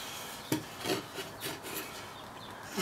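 Cherry wood joinery pieces with a dovetail-like fit being pushed together by hand, giving a sharp knock followed by a few soft scraping and rubbing sounds of wood on wood, close and quiet.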